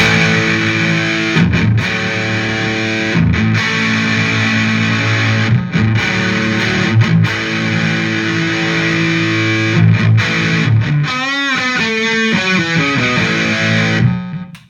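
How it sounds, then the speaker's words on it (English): Electric guitar run through a compressor pedal placed before a fuzz pedal, thick and heavily saturated with sustained chords and notes, a short vibrato-like wobble near the end, loud and continuous without speech. "here's what it sounds like with the compressor before the fuzz"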